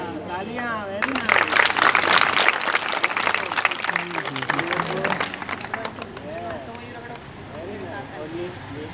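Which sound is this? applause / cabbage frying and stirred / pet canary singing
applause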